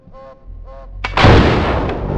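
Gunfire in the DayZ video game: a sharp, loud shot cracks out close by, followed by a long rumbling tail, after two short honk-like tones.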